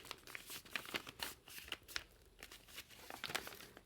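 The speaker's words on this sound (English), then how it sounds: "we're going to fold it in half" Paper being folded in half for a recycled notebook, heard as soft, close crinkling and rustling with small crisp crackles throughout.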